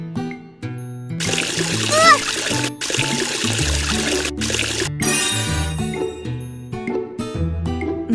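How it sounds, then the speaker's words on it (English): Cartoon water splashes from a Tayo bus repair game as faces are washed, several short splashy bursts and trickles over bright game music with chimes and a child-like voice, moderately loud and close. "Help wash their faces with water."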